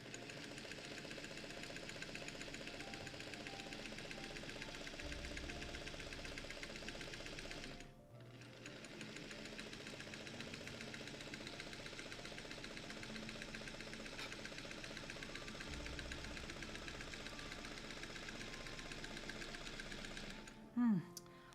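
A Singer 301 vintage sewing machine runs steadily up close with a fast, even mechanical whir and clatter, pausing briefly midway before stitching on, then stopping with a small clunk.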